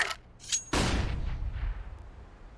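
Flashbang grenade detonating in the video game Warzone: after a couple of brief thin clicks, a single loud, sharp blast hits and rolls off into a rumbling, fading tail over about two seconds.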